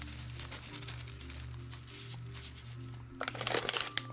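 Branded tissue paper from a Crescent Canna Delta 9 gummies box crinkles as it is unwrapped, with soft rustling throughout and a louder burst of crinkling near the end.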